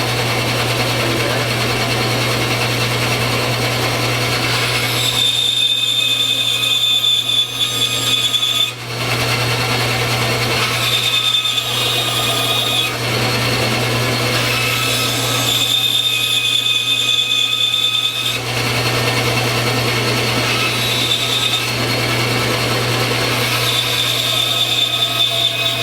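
A power saw cuts the rough shape of a knife handle around a metal handle template in a knife workshop. It gives a loud, continuous whining drone with a high whistle that dips briefly at a few points, with no talking.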